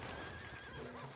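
Horse neighing in the video game Red Dead Redemption 2, a single short whinny heard up close and fairly faint, with no talk over it.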